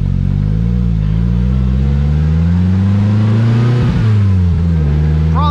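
A 2022 Polaris Slingshot S engine drones loudly from the driver's seat, its steady mid-pitched growl rising in pitch as it accelerates, with a brief shift dip near the end.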